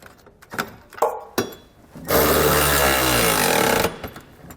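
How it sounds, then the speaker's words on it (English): A few metallic clinks come before a loud, continuous power-driven whir lasting under two seconds, as a 19mm socket tightens Curt trailer hitch receiver hardware on a 2019 Jeep, followed by more light clinks. "We can then go back and tighten down all of our hardware using a 19mm socket."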